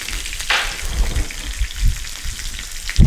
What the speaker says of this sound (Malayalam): കറിവേപ്പില ഇട്ടു, ഉള്ളി ഇട്ടു,